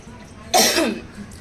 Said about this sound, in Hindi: खांसी क्यों आ रही क्या मालूम।